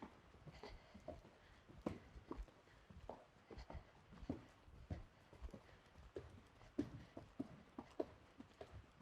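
A horse's hooves beat out an irregular clip-clop at the canter in an arena riding lesson, moderately close and fairly soft, with no voices.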